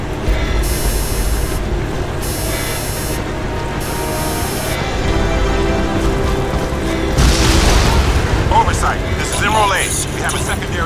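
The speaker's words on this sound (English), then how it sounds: "have a secondary explosion at the church" A loud, broadband explosion bursts out near a church in the video game Crysis 2, swelling over a steady wash of in-game rumble and effects before tailing off into lingering debris noise.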